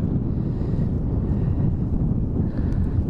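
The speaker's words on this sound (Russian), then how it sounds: "Шум прибоя, нервы успокаивает, тишина." Wind buffets the microphone on a pier at a lake in Siberia, with low rumbling surf washing in steadily underneath, a continuous broadband roar with no distinct breaks.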